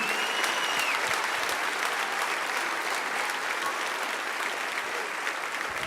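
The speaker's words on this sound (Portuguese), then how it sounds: "Vamos aplaudir forte aí." Loud, sustained applause from a church congregation at a worship service, a thick wash of many hands clapping evenly for several seconds without a break.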